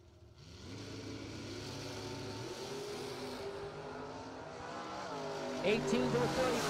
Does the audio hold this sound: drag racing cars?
yes